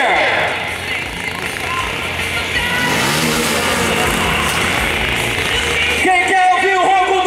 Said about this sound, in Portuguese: Quem quer ouvir o ronco do motor?